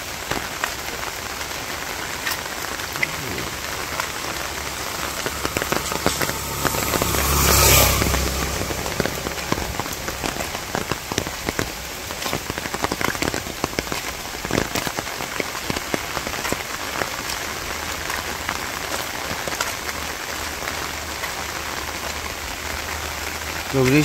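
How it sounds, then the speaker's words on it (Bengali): Rain that has eased off, pattering steadily on surfaces outdoors with a dense, even hiss. A short louder burst comes around the middle, and a voice is faintly heard now and then. "তো বৃষ্টি এখন একটু কমে গেছে"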